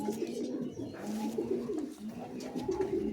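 Several high-quality Giribaz pigeons at a house in Batan village coo steadily and close by, overlapping low rolling calls filling the moment without speech.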